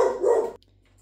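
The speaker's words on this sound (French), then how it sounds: "Là, ma chienne s'était mise à aboyer." A female dog barks once, a short loud burst up close, then quiet follows.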